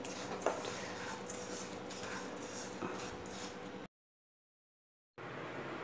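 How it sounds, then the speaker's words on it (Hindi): Chopped nuts and sugar roasting in ghee in a pan for toast or bun halwa, with soft continuous sizzle and occasional metal spoon scrapes and clinks against the pan; the sound cuts out for about a second before resuming. "अब हम इसे और थोड़ा 2 मिनट भून लेंगे"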